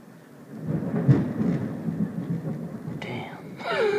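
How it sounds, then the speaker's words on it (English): Thunder from close lightning strikes rumbling low and building over a few seconds, with a voice briefly exclaiming near the end. "Thunder sounds awesome."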